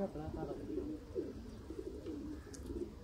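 Sialkoti pigeons coo in low, rolling, repeated phrases at close range, with a faint voice or background murmur underneath.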